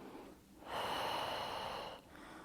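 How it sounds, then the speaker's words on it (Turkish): A pregnant woman doing a back exercise takes one long, audible breath in through the nose, close and steady for over a second, between quieter pauses. "Nefes aldım."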